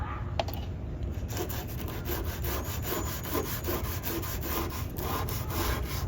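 A stiff brush scrubs old finish off a French Provincial wooden furniture piece, with rapid rhythmic back-and-forth rasping strokes, close and steady, with no talking.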